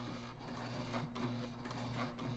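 Sewing machine top-stitching a backpack, a steady mechanical whir with a constant hum that runs unbroken and fairly close for the whole stretch, with no voices over it.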